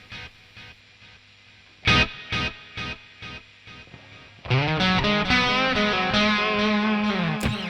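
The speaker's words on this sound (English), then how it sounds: "So that's the echo verb, right?" Joyo Atmosphere reverb pedal set to echo verb on an electric guitar: several sharp plucked notes ring out with repeating echoes, then a loud strummed chord swells into a dense, lingering wash of delayed reverb.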